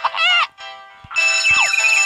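A bell rings in the Stickman Survival video game, loud and electronic, with bright tonal bursts, a short break, then sustained ringing with sliding tones.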